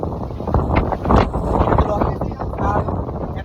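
Strong wind buffets the microphone high on a Korean mountain during a tiring climb, a steady broadband roar with gusty swells throughout the clip.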